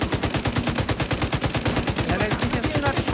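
Rapid automatic gunfire rattles in The Division 2, a dense, loud, fast-repeating burst of shots running continuously, with voices faintly present.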